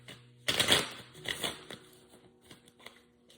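Tarot or oracle cards shuffled by hand at the close of a Cancer reading, a burst of riffling papery flutter followed by softer, scattered taps and slides of the deck, fairly quiet.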